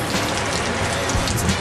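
Steady rain falls on a rainy day, a dense continuous patter of drops on surfaces, even and fairly close, with no talking.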